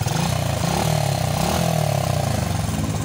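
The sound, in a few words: underbone motorcycle engine running after repair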